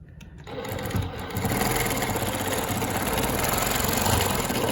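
A longarm quilting machine stitches a Baptist Fans pattern along rulers, following a previous stitching line, with a steady rapid mechanical hum close by that starts softly and then holds constant.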